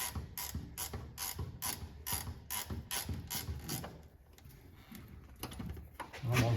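A ratchet works a bolt free from the rear leaf spring bushing of an MGB. Close clicking repeats in a quick, steady rhythm for several seconds, slows, and ends in a duller knock.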